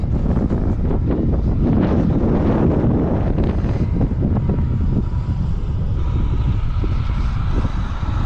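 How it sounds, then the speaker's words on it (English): Strong wind in Wyoming buffets the microphone in a loud, continuous roar with low rumbling gusts throughout, no voices. "It is so windy."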